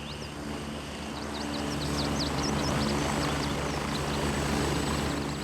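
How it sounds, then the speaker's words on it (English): A helicopter approaching in the video game Grey Zone, its steady rotor drone swelling gradually louder and nearer over several seconds with no talk. "Chopper coming in."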